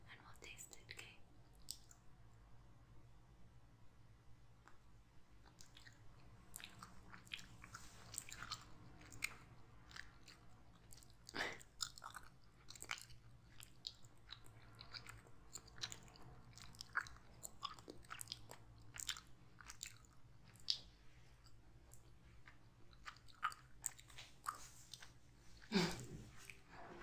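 Slow, close chewing of a chewy natural medicine tablet, soft wet mouth sounds and faint crunches spread over a quiet room, with occasional whispering.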